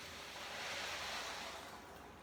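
Vegetable stock pours into a soup pot of lentils and garlic, a steady, close, rushing splash that holds for about two seconds and eases off slightly at the end.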